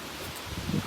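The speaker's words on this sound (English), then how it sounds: "See how windy it is?" Strong wind blowing outdoors, a constant close rush of buffeting noise and rustling across the whole short moment, with no voices.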